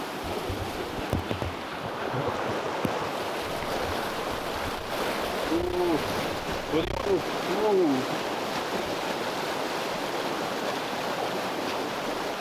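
Fast, strong river water of Sungai Ingki rushes in a continuous broadband roar, close and loud, while faint voices and brief whistle-like calls surface midway.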